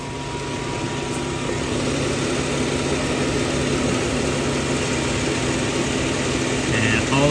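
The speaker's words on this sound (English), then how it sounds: "the engine is running for a couple of minutes now" A 2017 Jeep Wrangler JK engine idles steadily just after an oil change, a continuous low rumbling drone at constant level throughout, close by with no breaks.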